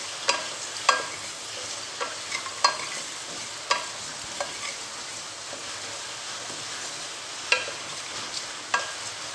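Spinach stems seasoned with salt and turmeric get stirred in a pan with a soft steady sizzle, broken by scattered scraping clicks of the spatula spaced unevenly across the stretch, close and moderately quiet with no voices.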